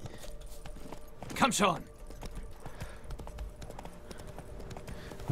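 Roach, the horse in The Witcher 3, trots up with a brief burst of close hoofbeats, then quieter clip-clop steps beneath a voice.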